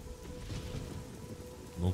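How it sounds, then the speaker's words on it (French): Rain falling in the video game Oblivion, a steady moderate hiss of drops with a brief louder thump near the end, and a faint voice-like murmur in the background. "Et ça pleut."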